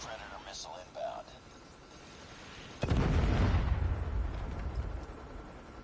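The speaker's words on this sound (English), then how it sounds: "Friendly predator missile inbound." Predator missile strike explodes in Call of Duty Mobile deathmatch: a sudden loud, close blast with a deep rumbling tail that slowly fades, preceded by faint game chatter and sounds.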